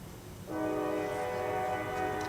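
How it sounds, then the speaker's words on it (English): A train goes by in the distance and sounds its horn, a sustained multi-tone blare that starts abruptly and holds steady over a low background rumble, with no talking. "You can hear a train go by."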